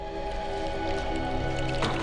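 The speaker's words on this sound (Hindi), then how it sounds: "कुछ आवाज आ रही है क्या? पानी जैसी। पानी की आवाज।" Water splashing and dripping inside a closed room of a house, a steady wet squishing wash with no pauses across two seconds, moderately loud and muffled.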